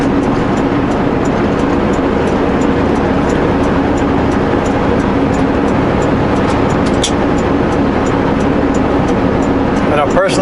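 A car with an automatic transmission climbs westbound up Rogers Pass, its engine a steady, continuous drone with road rumble throughout and no pauses.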